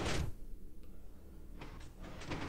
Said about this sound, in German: Und jetzt geht sie wieder zu.